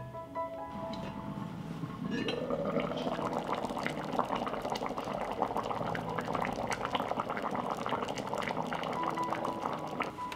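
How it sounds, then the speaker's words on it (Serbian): Stew with potatoes bubbling in a covered pot, a continuous busy simmering boil with dense small bubbling pops, steady and close after a quieter start. "Poklopit ću i kuvat ću 30 minuta."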